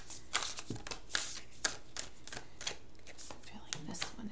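A deck of tarot cards is shuffled by hand in a series of quick riffling bursts with brief pauses between them, close up, while a person speaks quietly alongside.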